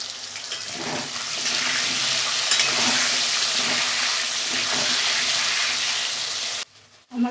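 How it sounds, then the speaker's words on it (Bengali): Potatoes fry in a kadai with a continuous, fairly loud hissing sizzle and occasional stirring scrapes, cutting off briefly near the end before a short burst returns. "আমার আলু ভাজাটা দেখো বন্ধুরা হয়ে গেছে"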